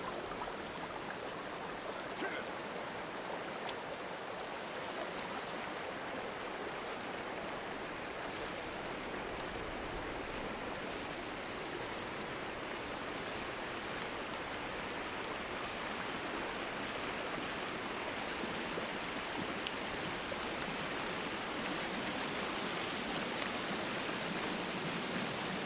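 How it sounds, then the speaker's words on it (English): A waterfall in the survival game Sons Of The Forest gives a steady, unbroken rushing roar of falling water, even and moderately loud throughout, with no voices. "we have made it to this waterfall looking thing"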